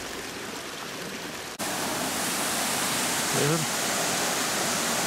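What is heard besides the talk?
waterfall at Longsheng rice terraces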